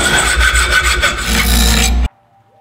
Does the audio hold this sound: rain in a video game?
no